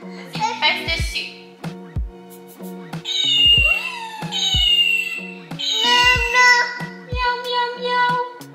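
A toy cat meows repeatedly when pressed, several electronic meows with gaps between them, loud and close, with a voice faintly in the background.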